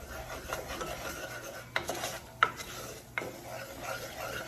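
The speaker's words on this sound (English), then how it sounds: "Give that a stir." Homemade enchilada sauce with spices being stirred in a pot, soft scraping and rubbing strokes with a few sharper utensil scrapes against the pan, close and quiet, no voices.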